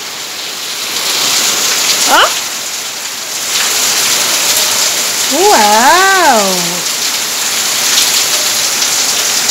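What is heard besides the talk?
heavy rain pouring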